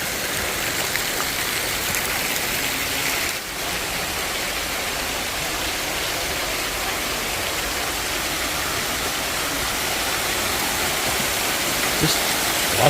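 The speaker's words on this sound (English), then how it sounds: "There's that staircase waterfall." A staircase waterfall on a cruise stop around Madeira or Tenerife flows as a steady, loud rush of water, unbroken throughout with no clear voices over it.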